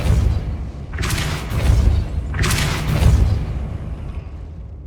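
In Hogwarts Legacy, the Depulso spell is cast twice, each cast a deep booming whoosh that surges and fades, the pair spaced a couple of seconds apart over low rumbling game ambience.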